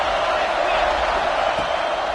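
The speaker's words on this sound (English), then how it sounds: "This crowd rising up," A big football stadium crowd at an Irish vs. LSU game swells in a loud, continuous roar, a dense wash of cheering that holds steady throughout with no clear breaks.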